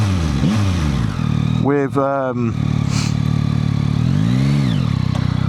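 2025 Yamaha MT-09 SP motorcycle engine revving under a rider's steady talk, with rising and falling engine pitch sweeps and constant wind noise throughout.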